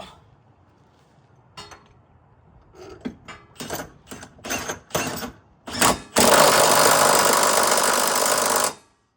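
A power tool drives subframe bolts back into a 2017 Ford Mustang GT (S550) during a lowering job. Short loud bursts of impact hammering build up and end in one sustained rattling run that stops abruptly, close by with no talk.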